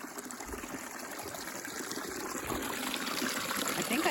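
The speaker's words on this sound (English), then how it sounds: "Looks like we have found our creek crossing." Creek at a hiking-trail crossing, cold clear water flowing and trickling in a steady, close babble that builds slightly, with little else heard.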